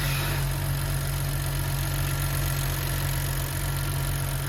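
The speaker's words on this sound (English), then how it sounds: "let me show you the engine is running though" A BMW 435i convertible engine runs at a steady idle, close and loud, with a constant low hum and a faint irregular knock underneath throughout.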